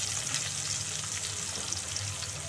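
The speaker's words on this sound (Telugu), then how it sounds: "సన్న ముక్కలు కట్ చేసుకొని మంచిగా ఫ్రై చేయాలి ఉల్లిపాయలని." Thinly sliced onions fry in oil with a steady, even sizzle throughout, close and moderately loud, with no voices.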